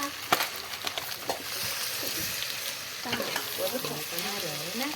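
Pasta hits a hot pan and gets stirred, bringing a close, continuous sizzle with light scraping and utensil clicks, fairly quiet, with faint voice traces near the end.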